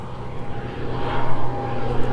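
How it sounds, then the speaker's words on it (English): A propeller airplane drones overhead, a steady loud engine hum that swells slightly as it passes near a roadside motorcycle stop, with no talk. "And that's aeroplane number 3."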